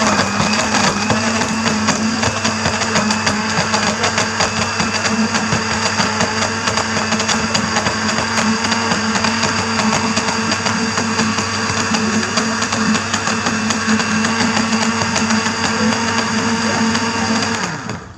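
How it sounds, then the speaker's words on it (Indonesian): A kitchen blender whirs loudly and continuously, mixing dragon fruit juice with milk, its motor holding a steady high whine for the full duration before cutting off at the end. "And the blender"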